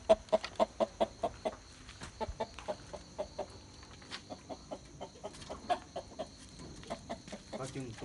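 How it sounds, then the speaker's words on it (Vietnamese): A farm hen cackles and clucks after laying an egg, a run of sharp repeated calls near the start followed by scattered clucks, fairly close and moderately loud with faint background noise. "Gà để trứng luôn nè."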